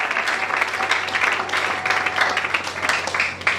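A church congregation breaks into loud, sustained applause, a dense wash of clapping hands that holds steady throughout without pause.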